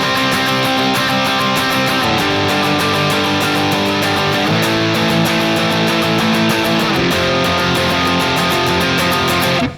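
Sustained electric guitar chords from a song, each chord held twice as long, ringing loud and steady with a slightly distorted tone and no voices.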